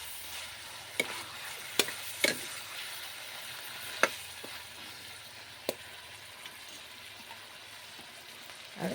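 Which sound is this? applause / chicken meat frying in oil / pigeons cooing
chicken meat frying in oil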